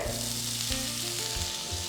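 Steady, dense sizzling of chopped onion frying in hot oil, continuous and close, with faint stirring scrapes and no talking.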